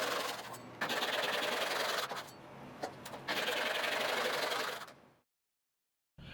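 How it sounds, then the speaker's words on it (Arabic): A steady, harsh sawing drone cuts wood into small cubes continuously, pausing briefly twice, then stops abruptly into silence near the end. "نقص بقى شوية مكعبات"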